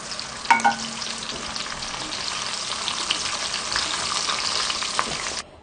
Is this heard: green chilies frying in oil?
yes